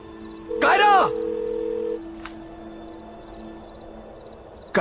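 A short burst of phone keypad tones, then a steady tone holds briefly before fading into quiet room hum.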